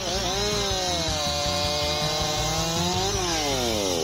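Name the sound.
Makita EA7900 handheld chainsaw cutting wood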